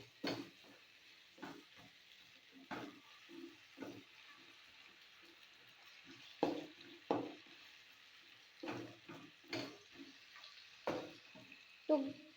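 Shelled peas stirred with spices in a hot wok, heard as a quiet sizzle broken by repeated scraping strokes of a spatula, close by, with no talk over it.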